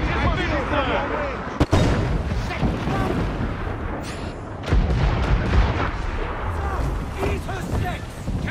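Ship cannon and mortar fire in the video game Assassin's Creed IV Black Flag make a dense, loud barrage of booms and blasts, with one sharp crack standing out, under shouting voices throughout.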